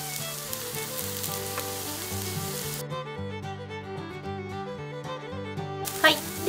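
Nagaimo yam and green onion batter sizzles steadily in a hot frying pan, a soft crackling hiss that continues throughout while gentle background music plays underneath.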